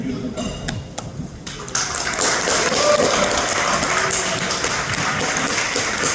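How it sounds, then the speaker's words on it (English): Wedding guests break into applause after a toast, the clapping swelling from a thinner patter into a dense, sustained round that carries to the end. "Give a big round of applause."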